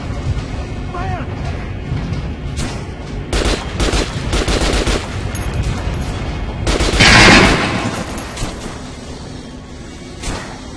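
Rapid gunfire on a shooting range in Metro: Last Light, scattered shots and short automatic bursts over steady background noise, with one louder blast near the end.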